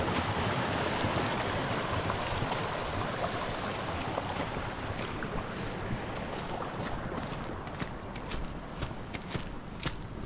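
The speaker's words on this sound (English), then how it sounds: "This water is running" Water runs steadily through a channel at a fish farm beside a river, a continuous rushing wash that stays loud and even from start to finish, with no voices.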